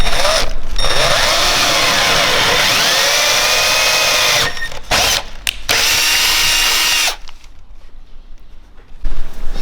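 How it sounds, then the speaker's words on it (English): A power drill with an 8mm bit bores holes for a BMW E36 M3 LTW front splitter, the loud, close whine running steadily, then breaking into short bursts before stopping, leaving faint handling noise. "So now I'm going to drill these holes with 8mm drill bit"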